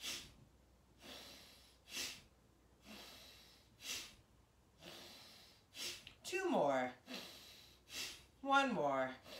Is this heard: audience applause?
no